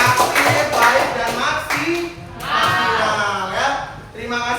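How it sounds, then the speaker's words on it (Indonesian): Children clap together in a junior high school computing class, a light rhythmic patter mixed with overlapping young voices calling out. "Tepuk tangan sekali lagi untuk kamu semua."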